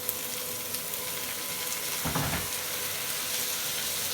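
Potato, carrot and green chili frying in a pan, a steady soft sizzle running throughout with a brief louder stirring scrape partway through.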